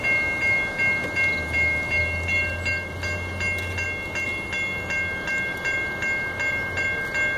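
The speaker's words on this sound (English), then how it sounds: "I hope it's an Amtrak." An Amtrak passenger train rolls through Fonda, New York, its steady rumble and repeated horn-like tonal blasts holding throughout, fairly close and loud with no talk over it.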